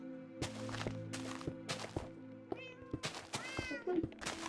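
A cat meows repeatedly in the video game Minecraft, several short mid-pitched meows spread across the clip over a steady game background hum, with no talking.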